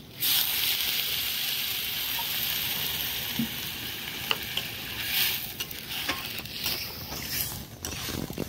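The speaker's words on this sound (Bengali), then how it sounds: "হয়ে গেছে আলুটা ভাজা, দিয়ে দেবো জল।" Fried potatoes in a pan sizzle steadily as water is poured in, with scraping and stirring noises on top of the continuous hiss; no voices are present.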